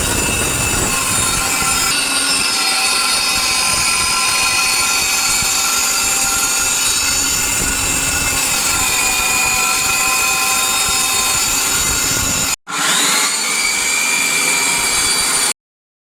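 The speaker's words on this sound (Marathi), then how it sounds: "तर आता आपण गाजर किसून घेणार आहे." An electric food processor grates about 1 kg of carrots, giving a loud, steady whirring motor drone that runs almost unbroken, with one brief cut before it resumes and then stops.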